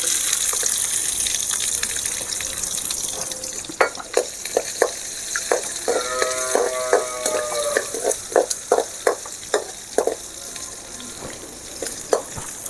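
Cinnamon and small shallots fry in hot oil, giving a steady close sizzle broken by a run of sharp rhythmic scraping and stirring strokes in the pan.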